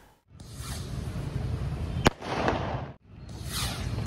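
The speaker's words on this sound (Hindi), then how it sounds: "ये छोटे साइज़ का रॉकेट है कॉक ब्रांड का, ल्यूनिक का, जस्ट जूनियर" Cock Brand Junior mini rockets launch one after another, each a rising fizzing whoosh, with a sharp crack between the first and second, fairly close with no talk.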